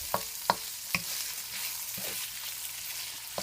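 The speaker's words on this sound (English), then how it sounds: "we're going to pick up that garlic in there as we saute the onions and get the meat" Onions, garlic and ground meat sauté in a pan for a macaroni and cheeseburger bake, with a soft steady sizzle and a few sharp utensil clicks early on.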